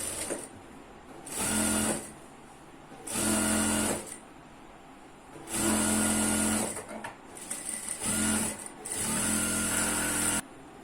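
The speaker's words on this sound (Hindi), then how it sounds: "अब हम दूसरे जो साइड का भाग है उसे भी यहाँ पे सिलाई लगा देते हैं।" A sewing machine stitches a side seam on ankle-length pants in several loud bursts of whirring, with brief quieter pauses between runs.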